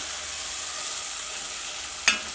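Tomato cooks in a frying pan for a mushroom dish, with a steady soft sizzle and one brief metallic clink of a spoon against the pan near the end.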